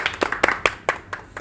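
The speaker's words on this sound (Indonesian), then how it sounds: "Tepuk tangan untuk saya." A few scattered handclaps from a small group on a casual talk show, a sparse irregular patter of about a dozen sharp claps that trails off quickly.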